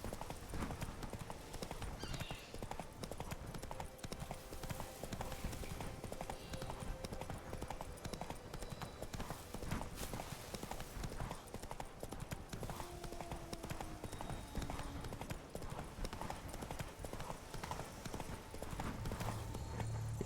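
Roach, Geralt's horse in The Witcher 3: Wild Hunt, gallops with a steady, rapid clip-clop of hooves that continues unbroken, with soft game ambience and faint music underneath.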